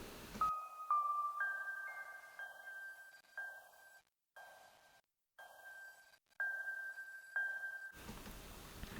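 Airy keyboard melody in a chillwave style, a few soft sustained high notes repeating with short dropouts, faint and alone.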